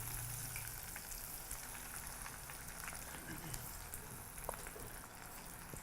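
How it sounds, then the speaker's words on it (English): Steady crackling sizzle of food deep frying in hot oil, continuous and close, with scattered sharper pops over a constant hiss. "adding our onion rings to the oil first"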